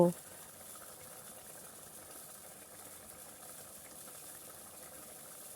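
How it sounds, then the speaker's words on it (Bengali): A tangy-sweet paneer gravy simmers in a pan with a faint, even bubbling hiss that runs steadily throughout, quiet and unchanging after a brief louder knock at the very start. "এরপরে পনিরটা দিয়ে ভালো করে ফুটিয়ে নেব"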